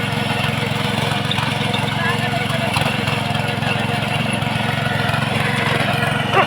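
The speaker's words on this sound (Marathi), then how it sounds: "हे आपले ट्रॅक्टर चालवत आहेत" A steady, rumbling engine runs continuously at an even idle-like pace, nearby and loud, with faint voices mixed in.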